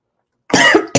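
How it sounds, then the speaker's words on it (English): A single harsh cough after a moment of silence, followed by the start of another, close and loud. "I just had a coughing fit because I was taking a drink of coffee"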